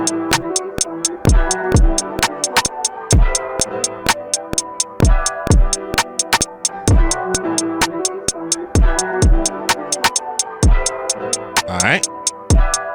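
A punchy drum pattern from a Titanium expansion plays on an MPC, with loud, regular kick and hi-hat hits in a steady looping groove over a sustained synth backing, close and dry.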